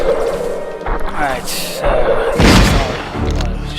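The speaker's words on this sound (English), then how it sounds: "that's the explosion noise of the red ring" Red ring explosion sound effect from the Superman 64 video game, a sharp crash-like burst near the middle, followed by lesser thuds, with someone talking over it.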